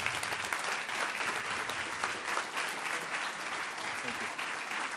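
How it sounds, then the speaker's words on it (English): Sustained audience applause fills a town hall meeting on the state budget with the governor, a dense, steady wash of many hands clapping at close range for the full length. "Let's give them a nice round of applause."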